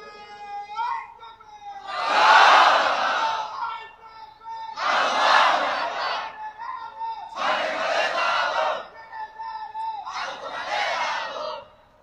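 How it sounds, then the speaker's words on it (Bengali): A young man leads a takbir call at an Islamic mahfil gathering, and a large crowd answers with four loud, rhythmic shouted responses, each separated by his single raised voice calling out. "এবার একজন যুবক লোক তাকবীর দেন তো দেখি।"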